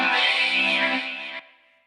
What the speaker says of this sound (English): you can hear that vocoder on the right is more clean and smooth and lush